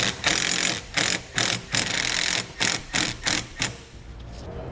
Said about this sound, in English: take some self-tapping screws and secure it directly to the base plate